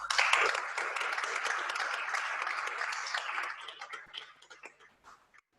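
Audience applause greets students invited to the front at a French conference on heritage digitization, loud steady clapping that thins out into scattered claps and fades toward the end.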